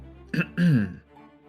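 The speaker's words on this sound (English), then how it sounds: "pauses for a little bit before clearing his throat again." A single close throat clearing, two short rough bursts from one person, followed by quiet.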